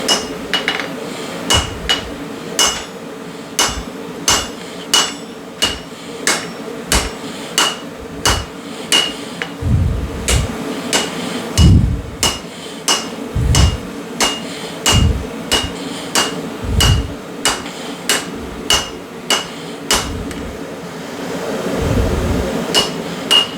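A hammer strikes a cutoff tool on an anvil over and over in a steady rhythm, each blow a sharp metallic ring, cutting excess metal from a forged drift, with dull thuds mixed in.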